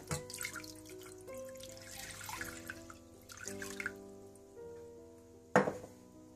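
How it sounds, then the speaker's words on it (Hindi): Water runs and splashes into a metal pot, steady at first, then a sharp clank of the vessel near the end. "सबसे पहले आप देचकी में पानी डाल लें।"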